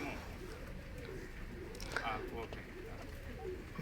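Racing pigeons cooing at their loft: soft, repeated rolling coos rising and falling in a steady cycle, fairly faint against a constant background hum, with a brief noisy flutter midway.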